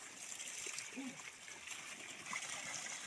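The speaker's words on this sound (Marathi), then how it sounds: "ही जी मली सुकी कडकडीत आहे त्यात पाणी सोडते" Irrigation water is let into a dry, parched field furrow on a farm, giving a faint, steady trickling and splashing flow that continues evenly throughout against a quiet outdoor background.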